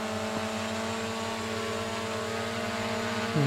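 A DJI drone flies in winter in Ethelbert, Manitoba, giving a steady, even propeller whine with layered harmonic tones that holds throughout and swells slightly at the end.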